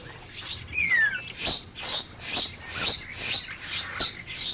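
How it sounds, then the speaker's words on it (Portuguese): Bird chicks beg their parents for food with a run of about nine rhythmic, high, raspy calls that come in regular bursts, opened by a short rising whistle, all close and fairly loud. "Os filhotes usam sinais de persuasão para pedir comida aos pais."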